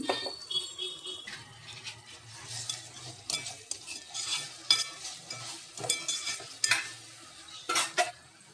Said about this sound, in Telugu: చిన్నగా కట్ చేసి పెట్టుకున్న టమాటా ముక్కలు మిక్సీ పట్టి పెట్టుకున్న ఈ పేస్ట్ను అయితే వేసుకొని ఆయిల్లో మంచిగా అయితే వేగనివ్వాలి